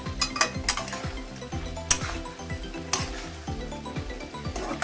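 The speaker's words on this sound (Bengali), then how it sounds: "খুব সুন্দর করে কষিয়ে নিতে হবে সবজির সঙ্গে পুরো মশলাটা" Fried flat beans and potatoes being stirred with spice paste in an oily pan, a steady sizzle under repeated scraping and clinking of a spatula against the pot, close and moderately quiet, with no voices.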